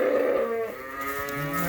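Young lambs in a farm creep pen bleating, a close, sustained harmonic call with a second call following, clear and unaccompanied by talk.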